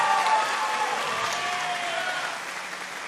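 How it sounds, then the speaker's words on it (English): Applause from an audience after a Melee fight between two athletes, heard before the judges' scorecards are read. It is a steady wash of clapping and crowd noise, moderately loud, with no talking, and it eases off slightly toward the end. "a round of applause for both of these amazing athletes"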